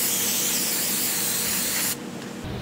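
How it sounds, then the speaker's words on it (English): Brake cleaner sprayed from an aerosol can onto a brake caliper, a loud continuous close hiss for about two seconds, then cut off abruptly and followed by a quieter brief spritz. "To clean it, we're just using some brake cleaner."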